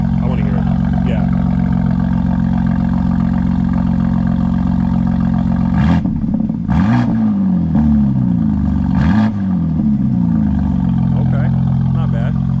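BMW M2 G87 fitted with a new single midpipe exhaust, idling loudly then revving in three sharp blips around the middle, close by, with low steady drone and people talking over it.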